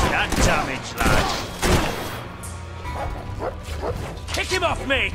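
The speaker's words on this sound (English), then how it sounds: "It's just a dog!" A dog barks repeatedly in the video game Fable 3: several sharp yips and woofs in a mid-distance, mixed with gunfire-like bursts and character voices talking over the action.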